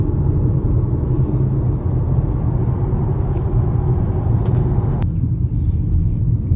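Steady low rumble inside a moving car, a constant droning road and engine noise at fairly high level with no talking, a couple of faint brief clicks partway through.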